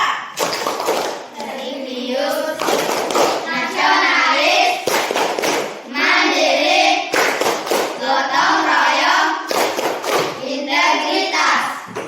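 A class of children performs a rhythmic clapping routine, loud sharp bursts of hand claps in patterned groups alternating with chanted voices, close and energetic throughout.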